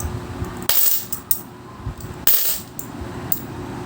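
Coins drop and clatter onto a hard surface in two sharp bursts, each followed by a brief ringing settle, loud and close with no talk.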